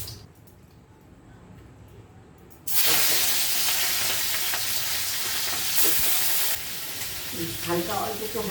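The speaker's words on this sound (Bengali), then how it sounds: "ভেজে নিচ্ছি" Prawns frying in a pan for a Bengali stuffed potato dish give a loud, steady sizzle that bursts in and then settles into a softer crackle, heard alone with no talk.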